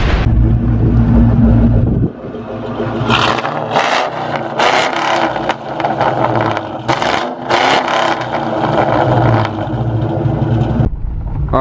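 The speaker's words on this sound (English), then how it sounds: "Already taking the car on its little first test drive." A Ford Mustang on a test drive after a blown spark plug was repaired, with a close, continuous road and engine drone broken by rattling, scraping bursts as it moves.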